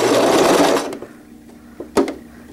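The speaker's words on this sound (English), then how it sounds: "Bring it back to the sewing machine and sew that hole up." A sewing machine stitching a zippered wet bag runs in a fast, loud continuous burst for about a second, then stops, followed by a few quieter mechanical clicks and thumps.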